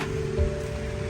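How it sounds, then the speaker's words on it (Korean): Light, steady rain falls over Ho Chi Minh City, a soft continuous hiss with a faint tonal hum running underneath and no voices. "지금 비가 떨어지고 있는데"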